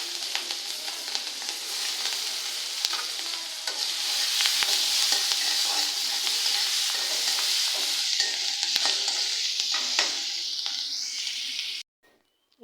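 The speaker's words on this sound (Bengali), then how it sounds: "এখন আমি এই তেলের মধ্যে দিয়ে দেবো কাঁচামরিচ," Sliced onions and green chillies frying in hot oil for a hilsa and eggplant curry, a steady close sizzle with stirring scrapes throughout, cutting off abruptly near the end; no one speaks.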